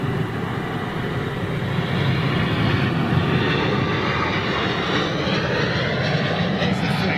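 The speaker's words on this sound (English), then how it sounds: "330 neo coming out now" An Airbus A330neo jet airliner rolls out for takeoff, its engines producing a steady, loud broadband roar that builds gradually and holds throughout, with faint voices of onlookers beneath it.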